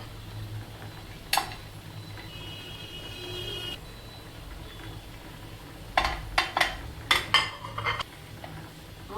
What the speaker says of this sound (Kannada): ನೈಫಲ್ಲಿ ಕಟ್ ಮಾಡಿ ಇಟ್ಕೊಳ್ತಾ ಇದ್ದೀನಿ.